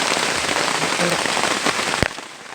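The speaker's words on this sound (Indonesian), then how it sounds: "Nah, hujan." Rain pours steadily outdoors by a river where a makeshift shelter is being built, a constant close hiss of drops with a brief muffled voice partway and one sharp knock near the end.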